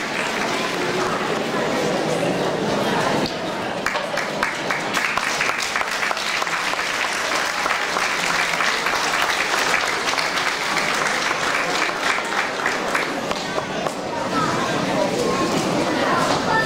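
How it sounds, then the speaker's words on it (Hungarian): Audience at a dance camp gala show bursts into sustained applause, dense and continuous clapping for about fifteen seconds, fairly close, easing briefly near the end. "Kérem, tapsolják meg biztatást!"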